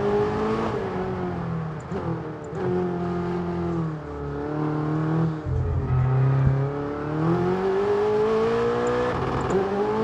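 Supercar in the F1 22 racing game at full throttle, engine note rising and dropping through repeated gear changes, strong harmonic whine with a brief deep dip midway, loud and close, no voices.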